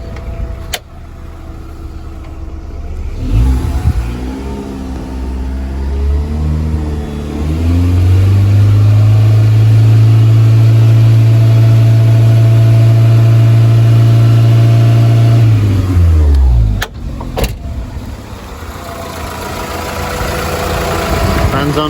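A Volkswagen Polo engine idles, then revs up and holds a high, loud drone for several seconds before dropping back to idle; a couple of clicks sound, with the radiator fan running at full speed.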